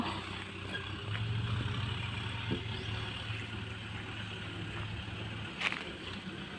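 A tractor plows a grass plot in the Thai countryside, its engine giving a steady, moderately loud low drone that runs without a break, with a few faint clanks over it.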